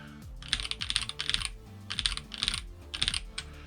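Steady bursts of typing up close on linear magnetic switches, rapid clacky keystrokes in clusters with brief pauses between them, over a faint low hum.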